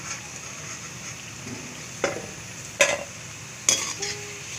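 Spinach pakoras fry in oil with a low, steady hiss, broken by a few sharp clinks of a utensil against the pan.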